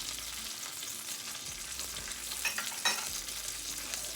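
Cod tongues are tossed into a hot pan, a continuous close hiss of sizzling with a couple of brief sharper crackles and scrapes midway, and no voices.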